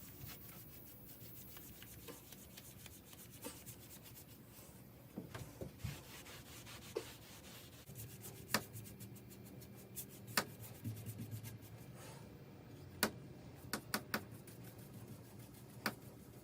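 A cloth rubs Minwax Golden Oak stain off a wooden coffee table piece with a soft, steady scrubbing hiss, faint and close, broken by a few light taps and knocks.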